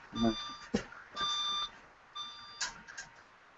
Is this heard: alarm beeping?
yes